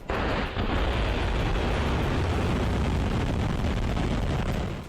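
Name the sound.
Russian Sarmat missile test launch from underground silo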